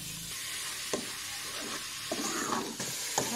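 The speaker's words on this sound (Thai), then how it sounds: "ใส่พริกแกงน้ำเงี้ยวค่ะลงไปผัดกับน้ำมันผัดหอมจักหน่อยแล้วก็ใส่หมูบดลงไปผัด" Minced pork and nam ngiao curry paste stir-fried in oil in a pan, with a loud, steady close sizzle and repeated spatula scrapes and stirring sweeps throughout, no voices.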